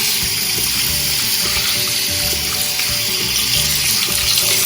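Rohu fish rinsed under a running kitchen tap, a steady broadband rush of water splashing into a sink, continuous and close throughout with no talking.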